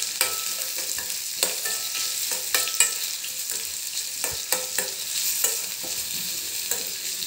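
Mango pickle tempering sizzles steadily in a pan while a spoon stirs it, scraping with sharp clicks and taps at irregular intervals; close, moderately loud, and no voices.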